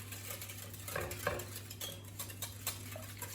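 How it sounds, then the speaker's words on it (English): Utensil clinking and scraping in a baking form while Schmarrn batter is mixed with dollops of butter, a few brief close knocks and scrapes over a steady low hum. "So now let's get this all mixed up nicely."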